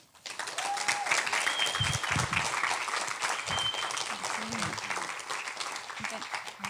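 An audience breaks into sustained applause welcoming speaker Kareem Weaver at a speaker series event. The dense clapping rises quickly and holds steady throughout, with a few faint tones and murmurs underneath.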